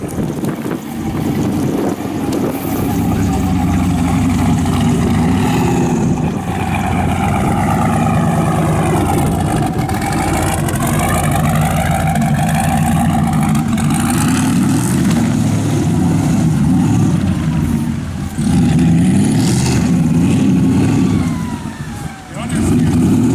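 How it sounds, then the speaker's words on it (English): An LS2 V8 swapped into a Porsche Boxster roars continuously as it accelerates hard, the engine note rising and falling through the run under heavy wind buffeting, with people talking over it. "don't touch the brake, just hit the gas, floor it"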